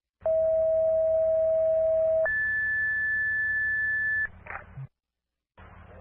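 A Depew fire department dispatch alert for a second alarm sounds as two loud sequential tones, a lower steady tone then a higher one, each held about two seconds, followed by a brief click and silence.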